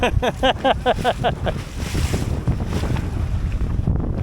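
A Drascombe Lugger sailboat heads out in building waves, with loud wind buffeting the microphone and the rush of water along the hull. A voice whoops briefly at the start before the steady roar of wind and waves takes over.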